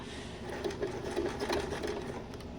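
A sewing machine backstitches through waterproof canvas for a sling bag, a close, steady mechanical whir with a quick rhythmic stitch pulse running alone.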